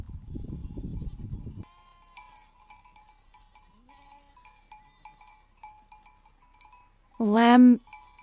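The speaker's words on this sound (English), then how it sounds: "The sheep are eating grass." Sheep grazing on a mountainside among goats: a loud, close bleat near the end, after a stretch of quiet with faint tinkling bells and a voice speaking at the start.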